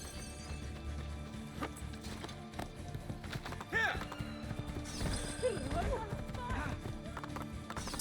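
Horse hooves clip-clop in Assassin's Creed II, a steady trotting patter under game music and effects, with a brief whinny partway through and voices talking over it.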